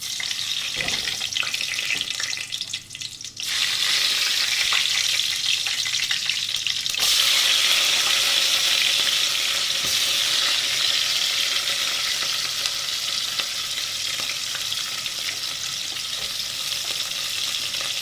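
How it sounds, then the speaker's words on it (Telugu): Onions and seeds fry in hot oil with a loud, continuous sizzle, crackling up sharply after a few seconds as more goes into the pan and then hissing steadily. "నూనె కాగింది ఇప్పుడు దాంట్లో తిరపాతి గింజలు ఎర్రగడ్డలు అన్నీ వేసేసుకున్నాము"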